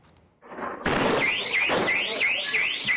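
Store alarm ringing loudly during a robbery at a technology shop warehouse, a harsh repeating warble that starts abruptly and keeps cycling, with bangs and noise underneath.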